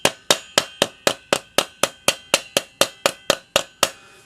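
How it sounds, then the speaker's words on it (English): Rawhide hammer tapping metal wire down against pliers while forming spiral fold earrings: fourteen sharp, evenly spaced taps, close and crisp, with no talking. "I would take a rawhide hammer and just tap it a little bit more"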